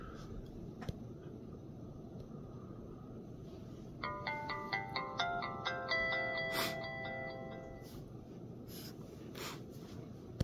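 An LG Ally Android phone on Verizon plays its boot-up jingle: a quick series of bright chiming notes for a few seconds, sitting over room hiss with a few handling clicks before and after.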